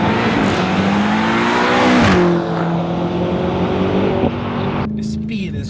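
A BMW M5 Competition accelerates hard, its engine and exhaust rising in pitch through the gears with brief drops at each shift, loud and close throughout.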